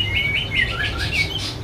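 A white-rumped shama sings a quick run of clear, whistled and warbling notes, close and bright over a low background hum.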